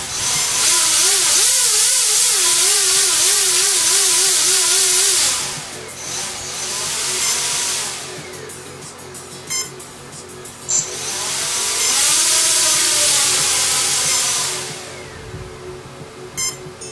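An RC helicopter rotor driven by a Flysky transmitter's throttle gives a loud, steady motor whine with wavering pitch, easing off midway and then swelling again in a second sustained burst.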